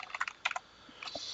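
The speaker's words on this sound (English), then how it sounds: "Now I am using a new keyboard for this, so apologies if I make some typos and stuff." Typing on a new computer keyboard: a short flurry of clicky keystrokes, a pause, then another brief burst, close-up and alone.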